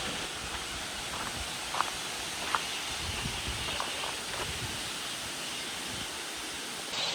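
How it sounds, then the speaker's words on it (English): A waterfall in western Africa pours with a steady broad hiss and rush of water, moderately distant, with a few faint knocks over the constant roar. "So we made it to the waterfall,"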